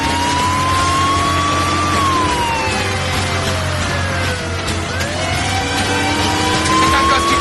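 A car driven erratically by a child in a TV drama, with engine revs rising and falling, screeching tires and a wailing siren-like tone, loud and close, under a layer of music and effects.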